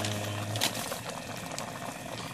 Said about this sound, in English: Over here, I got water starting to boil to do the pasta.